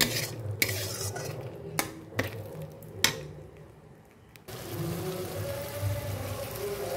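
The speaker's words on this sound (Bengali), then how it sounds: "একটু জল দিয়ে ভালো করে মশলাটা কষিয়ে নিচ্ছি সুন্দর করে।" Spiced masala being stirred and sautéed with a splash of water in a pan, with a utensil scraping and clinking against the metal at an uneven rhythm, several sharper knocks standing out, and a steadier wet sizzle toward the end.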